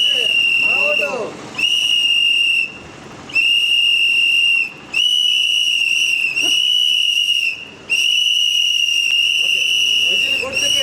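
A plain whistle blown as the symbol of an independent candidate's election campaign for ward 37 gives loud, shrill, sustained blasts, repeated about five times with short breaks and low background noise underneath.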